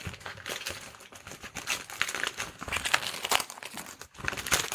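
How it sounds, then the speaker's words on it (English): Wrapping paper on a Secret Santa gift being unwrapped, with close, busy crinkling and crumpling and occasional tearing rustles in uneven bursts, no one talking. "Let's unwrap it."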